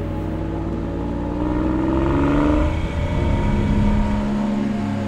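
Classic Porsche car engine droning steadily while driving, its pitch rising and falling as it revs, loud and close throughout with no voices.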